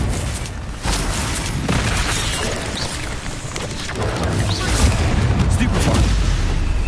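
The Confringo fire spell bursts in Hogwarts Legacy, producing loud, rumbling booms and explosive blasts that roll continuously across the game scene with little pause between them.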